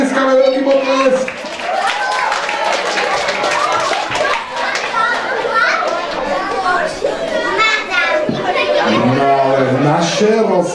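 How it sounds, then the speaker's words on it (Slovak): Children's voices and scattered clapping at a children's karate camp show, loud and close, with kids talking and calling out over patchy applause throughout. "Takže ešte raz im to tlieskame, veľký potlesk."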